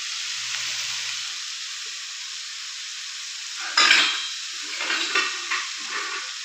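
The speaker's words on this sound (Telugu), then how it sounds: "మంచిగా చక్కగా వేయలాగా మనం వేయించుకోవాలి ఆయిల్లో ఒక టూ టేబుల్ స్పూన్ ఆయిల్లో" Tamarind chutney ingredients fry in two tablespoons of oil, giving a steady close hiss and sizzle with a brief clatter of stirring partway through and soft scraping after.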